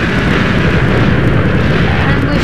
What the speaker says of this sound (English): This is gonna explode very soon.